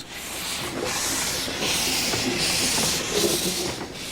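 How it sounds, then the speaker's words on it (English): An 1869-design Fairlie articulated narrow-gauge steam locomotive hissing steadily with rhythmic chuffing surges and faint rail clatter, moderately loud and continuous, no talking. "In 1869, engineer Robert Fairley tailor-made a powerful loco to work within the limits of narrow gauge. This was the result."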